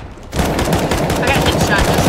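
Automatic spray fire in Counter-Strike: Global Offensive bursts in after a brief quiet moment and then rattles on loud and continuous, a rapid string of close gunshots.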